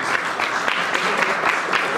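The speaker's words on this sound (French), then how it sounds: "En tout cas, on l'applaudit, on la remercie." Audience applause at a slam poetry contest in Marseille: a dense, steady wash of many hands clapping together, loud and close, filling the whole short stretch without a break.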